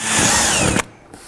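A power drill whines loudly at close range for under a second while drilling holes for Yamaha Wolverine RMAX overfenders, then cuts off abruptly, leaving a faint motor hum.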